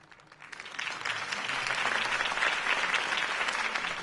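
A live crowd applauds after a campaign speech in a Batman stage show, the clapping swelling quickly from a thin start into a full, sustained round that stays loud to the end.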